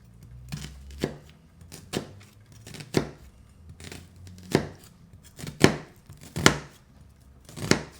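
A sharp knife chops food on a cutting board, about a dozen crisp, close knocks at an uneven, unhurried pace, alone with no talking.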